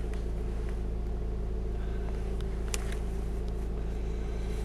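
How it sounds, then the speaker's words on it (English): A diesel engine in a Chrysler Voyager TD LE idles steadily with a low, even rumble and a faint mechanical clatter, close by and without talking. "Starts on the button, engine sounds nice for a diesel."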